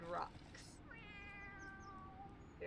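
A cat meows in Final Fantasy 14, a drawn-out, wavering tonal call that follows a brief burst at the start and sits over a steady background bed.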